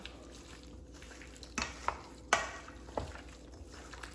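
A spoon stirs Jamaican curry chicken seasoning and curry powder in a pot, with a soft continuous scraping and a few sharp clinks against the metal, fairly close and without talk.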